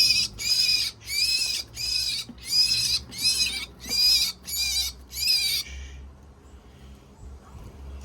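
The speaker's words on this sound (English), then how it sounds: "Oh no, it's a starling." A young starling trapped in a drainpipe gives eight rapid, rhythmic, shrill begging calls, close and loud, before going quiet.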